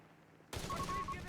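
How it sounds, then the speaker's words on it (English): Panzer Grenadier squad gunfire in Company of Heroes 3: a sudden burst of layered rifle and machine-gun fire erupting after a quiet moment, dense and sustained with battlefield rumble. "One of the Panzer Grenadier squad shoots. Now the rest of them."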